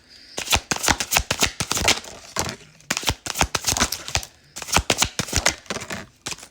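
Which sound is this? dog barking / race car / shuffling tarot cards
shuffling tarot cards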